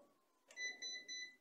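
Mode switch on a mini RC helicopter, a BO 105 model, giving a short series of faint, high electronic beeps in a quick pulsing run after a soft click.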